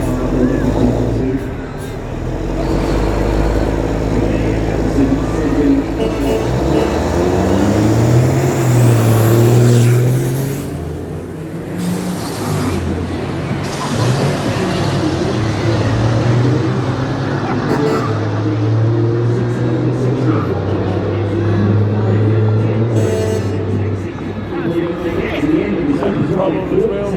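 A 1,500-horsepower Australian Super Truck drag racing at The Bend roars loudly and continuously, its heavy engine note rising and falling under ongoing commentator talk.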